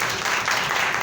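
A church congregation applauds during a sermon, a dense, steady wash of clapping that fills the whole short moment with no voice on top.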